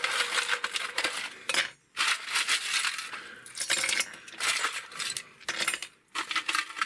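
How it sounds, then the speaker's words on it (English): Ice cubes tumble from a tray into a Stanley Admirals mug, a dense clattering, clinking rush in several close bursts with brief pauses between them, no talking. "we are going to fill this up with as much ice as we can get in here."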